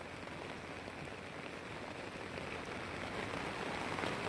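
Steady, dense rain pours down during a rainy-season trip near Panvel and Karjat, a continuous loud hiss of drops hitting surfaces with no breaks.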